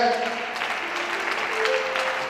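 A church congregation bursts into sustained applause and cheering in praise during an Easter worship service, a dense, steady roar of clapping with voices rising through it from start to finish.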